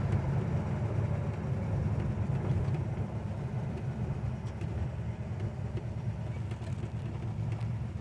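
A 1971 Chevy Nova engine hums at a low, steady, fairly quiet level through a downshift, with gear changes muffled under the drone.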